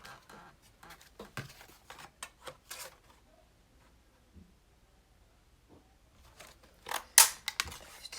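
Scissors snip through paper for paper art, a scattered run of short crisp cuts close to the microphone, with a quiet pause in the middle and a louder, denser cluster of snips near the end.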